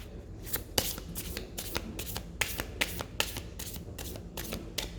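Tarot cards shuffled by hand, a steady series of crisp riffling snaps and flutters repeating every fraction of a second, close and alone with no voices.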